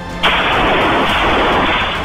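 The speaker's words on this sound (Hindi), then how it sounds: "गोलियों की तड़तड़ाहट यहां गूंज उठी" Gunfire erupts during a police encounter in the Tronica City area of Loni, Ghaziabad: after a brief quiet start, a loud, dense, continuous crackle of shots fills the rest of the clip without pause.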